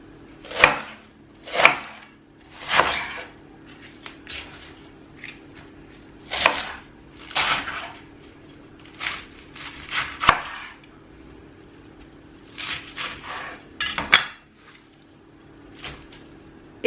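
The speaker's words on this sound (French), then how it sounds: "Donc je découpe en deux, puis en lamelles." A knife chops food on a board for a Cobb salad, cutting it into halves and then strips, with irregular crisp close thuds in small clusters separated by short pauses, no talk.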